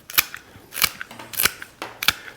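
Several sharp snips as rose stems are cut at an angle, five crisp cutting clicks spaced roughly half a second apart, close and clear with no talking.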